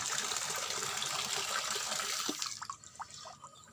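Water pours steadily from a tap in a continuous rushing stream, then cuts off, leaving a few scattered drips and splashes.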